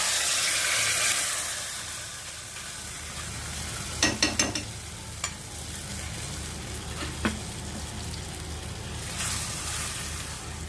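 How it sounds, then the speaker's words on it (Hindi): A steady sizzle of hot oil tempering poured into karela (bitter gourd) kadhi, hissing continuously with a few sharp crackles and spoon clinks partway through. "तड़का डाल दिया हमने।"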